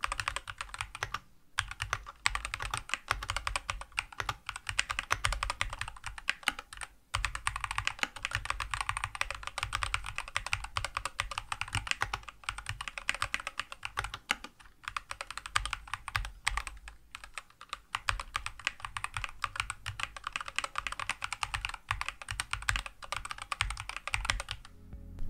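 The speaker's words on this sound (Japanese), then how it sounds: "まずは一度このままのタイピング音を聞いてみましょう" Steady, rapid typing on an Elecom VK600A rapid trigger keyboard with Gateron switches, close and clear, a continuous flurry of crisp keystrokes with occasional brief pauses and no talking.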